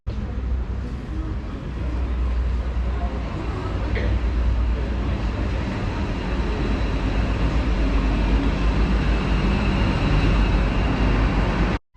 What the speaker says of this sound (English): On the train, the excitement. I do love a train journey.